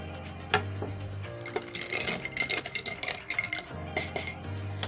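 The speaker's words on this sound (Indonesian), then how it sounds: "Setelah itu kita aduk dulu pakai sendok ajaib." Spoon stirring soda water in a half-filled glass, with repeated clinking and scraping strokes over a steady musical background.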